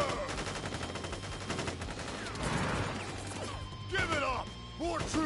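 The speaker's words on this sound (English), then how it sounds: "Ready, aim, fire!" Soldiers firing guns in a Crisis Core: Final Fantasy VII Reunion battle, a dense sustained fusillade of rapid gunfire with crashes and whooshing effects, ending in a few sharper bursts.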